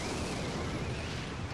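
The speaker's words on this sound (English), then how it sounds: "There's the rocket." A dense, noisy burst of a rocket spell explosion in Clash Royale, loud and broadband, filling the whole short moment with a rumbling roar and no voices.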